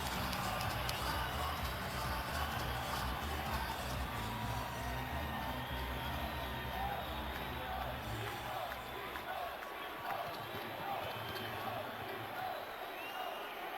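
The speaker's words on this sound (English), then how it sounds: "the crowd responds as they see the fighter approach the ring" Boxing arena crowd of thousands roaring steadily as the fighter heads toward the ring, a dense, continuous wall of cheering and shouting with no break, close and loud throughout.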